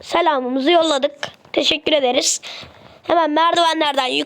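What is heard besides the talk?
No everyday noises stand out.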